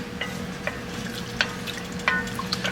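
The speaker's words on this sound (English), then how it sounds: "Now I can stir it in. I got to bring it back up to temperature." Ingredients stirred into a pot of seafood gumbo, a low bubbling sizzle under light, irregular clinks and scrapes of the spoon, close by with no voices.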